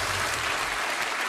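Audience applause at a live comedy show, a dense, steady wash of clapping from a crowd that fills the whole short stretch at an even, loud level with no talk over it.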